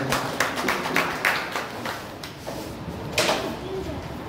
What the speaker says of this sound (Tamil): கைத்தட்டி உற்சாகப்படுத்தலாம்.